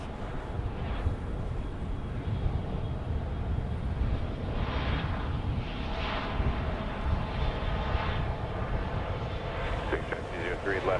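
JSX Embraer 145 jet at Dallas Love Field at night, a steady broadband engine roar at moderate distance running throughout, with radio-style voices talking over it.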